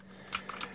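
A few quick keypresses on a Rantopad MXX mechanical keyboard, three or four close clicks in a short burst over low background hum.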